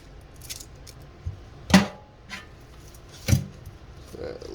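Scissors trim the thick rhizome of an anubias plant while a blue jelly shrimp aquarium is being reset. There are two distinct, sharp snips about a second and a half apart, close by, with quiet handling noise around them.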